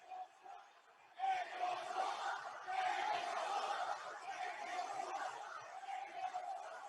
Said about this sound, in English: Crowd chanting disparaging remarks.